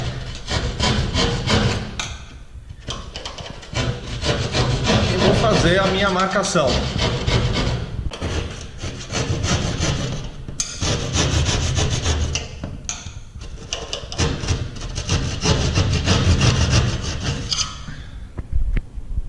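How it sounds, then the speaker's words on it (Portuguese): A hand saw rasps back and forth through drywall, cutting a door opening, in repeated rhythmic strokes, close and loud, with brief pauses and a few spoken words over it. "Vou introduzir aqui o serrote."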